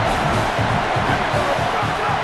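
Dense, steady stadium crowd roar in the video game EA Sports College Football, a continuous wash of noise with faint rhythmic thumping underneath.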